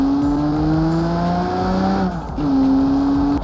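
A car engine in the Automation car-building game, with a quiet idle and low idle speed, revs up with a steadily rising whine, drops briefly as it shifts, then climbs again. It is loud and close, with no talk.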